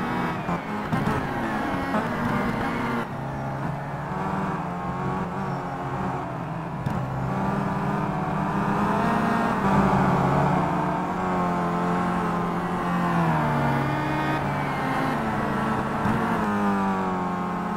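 Touring cars race around Zandvoort in the Simraceway WTCC game, including a Volvo and a BMW, engines droning loudly and steadily with rising and falling revs throughout.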